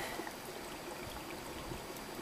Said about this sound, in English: I can hear the water gurgling